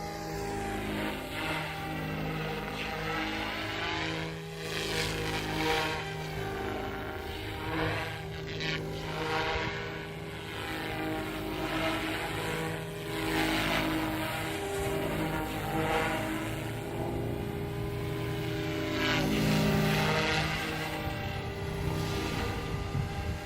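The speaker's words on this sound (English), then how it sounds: "Awesome flying helicopter." An Alzrc Devil 380 TBR RC helicopter flies continuously, its rotors and motor producing a steady whine and buzzing drone that swells and fades as it moves nearby, with no talking.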